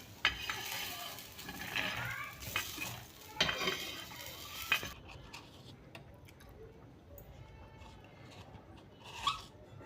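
Roasted green urad beans being scraped and stirred out of a hot pan, with close metal scraping and rustling for several seconds before it fades into quiet kitchen background.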